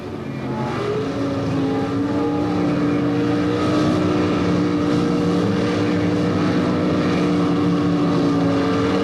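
1977 NHRA Summernationals drag race between a 1977 Chevy Monza and a 1977 Mustang launching off the line, a loud sustained engine roar with steady droning tones, heard alone.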